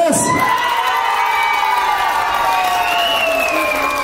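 Lively crowd at a playful contest cheers, whoops and shouts for a contestant, a loud sustained roar with children's voices and clapping, opening with a sharp burst.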